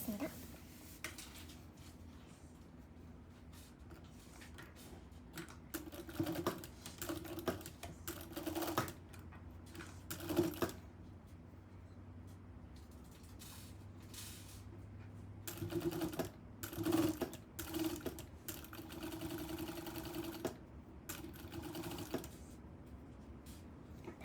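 A sewing machine stitches the zipper seam of a DIY zipper pouch kit, running in steady bursts of a few seconds with short pauses between them, at moderate volume under quiet background sound.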